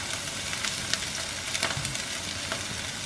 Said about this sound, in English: We want to hear it sizzle.